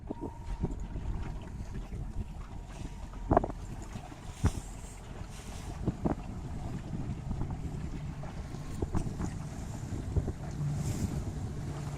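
Wind blowing across the water during sailboat racing, a faint steady rush with scattered bumps and knocks from the boat.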